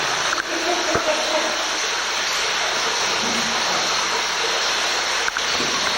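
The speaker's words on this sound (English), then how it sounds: "We could hear the water a lot better now." Underground stream flowing through a cave passage, a loud continuous rushing wash of water that fills the whole clip, steady and close, with a couple of faint knocks.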